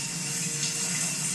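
Shower water runs in a steady, full hiss in a video game, a constant loud spray with no breaks and no talking over it.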